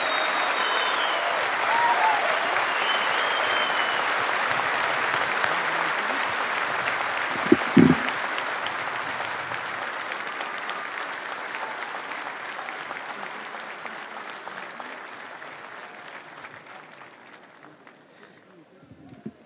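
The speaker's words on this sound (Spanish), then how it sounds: "demos el más fuerte aplauso a don Gonza y que él lo pueda escuchar en el cielo" Crowd in the stands of a rodeo arena at a national rodeo championship applauding in a long, dense, sustained roar of clapping that slowly tapers off, with a brief thump near the middle.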